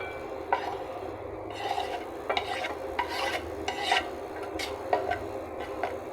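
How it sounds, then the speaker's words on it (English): Onions are cut with a knife while preparing beef pilau: repeated soft slicing and scraping strokes on a board in an uneven rhythm, close and fairly quiet, with no talking. "Cutting my onions."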